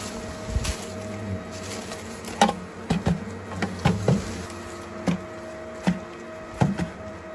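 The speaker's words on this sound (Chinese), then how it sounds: "这个就是中国最大最毒的马蜂——金环虎头蜂" Golden-ringed giant hornets buzz around an outdoor wild nest, with several loud close drones and sharp knocks against a steady faint hum. There is no talking.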